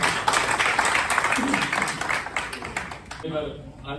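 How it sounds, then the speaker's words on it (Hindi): Applause from a crowd in Narwana at a ceremony honouring a cabinet minister, a dense burst of clapping that fills the whole stretch and thins near the end, with voices mixed in. "मैं चाहूंगा नरवाना की जनता के लिए एक बार जोरदार तालियां।"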